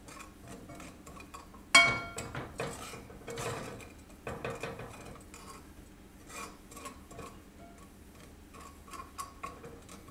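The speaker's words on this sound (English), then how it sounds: "And go ahead and mix that together. Just blend it all together." Sugar-free hot cocoa ingredients being mixed together in a bowl, giving soft repeated clinks and scrapes of a utensil with one sharper knock near the start, moderately quiet and with no talking.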